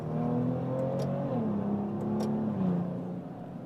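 Maserati Levante twin-turbo V6 petrol SUV in normal mode, giving a steady, smooth exhaust drone with a gently rising and falling engine tone throughout, no one talking.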